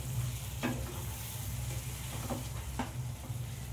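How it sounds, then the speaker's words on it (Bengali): Chicken is stir-fried in a pan with ground spice powder and whole dried red chillies for a chicken capsicum dish. A steady close sizzle runs under a low hum, broken by a few sharp scraping stirs. "দিয়ে আবারও আমি ভালো করে চিকেনের সাথে মশলাটা কষিয়ে নেব।"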